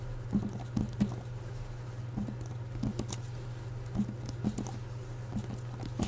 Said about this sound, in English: Neck tapping is very soothing.